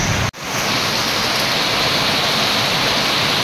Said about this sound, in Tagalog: So, grabe ang lakas ng ulan.